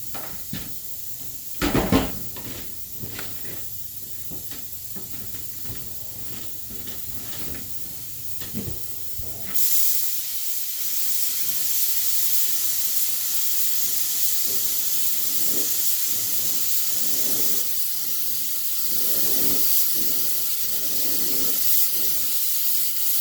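Compressed air blasting from an air hose while cleaning up a lawnmower, a steady loud broadband hiss that starts abruptly partway through and runs continuously after a few earlier knocks and bumps.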